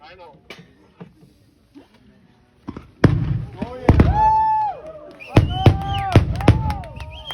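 Fireworks carrying a friend's ashes go off outdoors with sharp bangs, whistling rising streaks and crackling bursts, loud and close, with faint voices and a quiet lead-in before the first launch.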